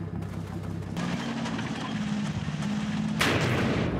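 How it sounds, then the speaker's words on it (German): Dull booming artillery blasts in a Normandy battle video game under a steady rumble, with a sharp louder impact near the end. "Der Beschuss geht los."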